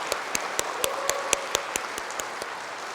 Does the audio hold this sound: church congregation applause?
yes